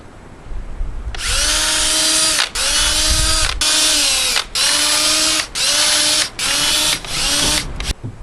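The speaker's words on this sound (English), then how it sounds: "There, I like to pre-drill my ends." A power drill pre-drills the ends of boards and battens on a suspended exterior board-and-batten wall, sounding in seven loud, close bursts of whining spin-up separated by short pauses, with no talk.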